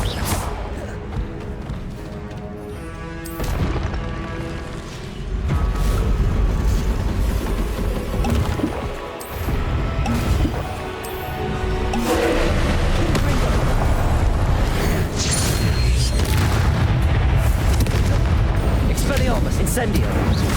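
Confringo explosive spell blasts in Hogwarts Legacy on Switch land as repeated loud booms and crashes within a busy combat mix of effects and music, with voices calling out during the fight.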